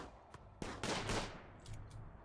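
Gunfire in the Rimworld video game, a handful of quick sharp shots in a short burst, fairly faint against a quiet background.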